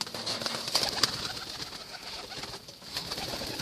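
Racing pigeons coo and flutter amid a steady hiss of bird activity, a dense flock heard close without any speech.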